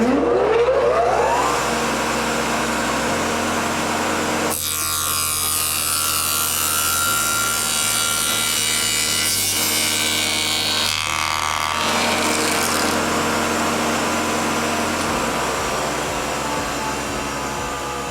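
A spindle moulder, or shaper, machines short tenons in wood with a loud, continuous whirring cut, rising into a brighter roar across several passes as the workpiece is fed and drawn back.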